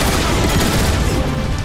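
Rapid bursts from mounted gun turret emplacements in Transformers: War for Cybertron, a dense, loud barrage of overlapping shots filling the whole stretch without pause.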